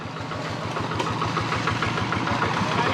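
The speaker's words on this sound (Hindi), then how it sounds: "ये ट्रैक्टर भाई नीचे मुश्किल से जाएगा, ब्रेक पूरे ज़ोर से लगा रहा है भाई।" Small farm tractor engine descending a slope under hard braking on a rural road near rice fields in Sri Lanka, a steady close mechanical rumble with a knocking, idling pulse throughout.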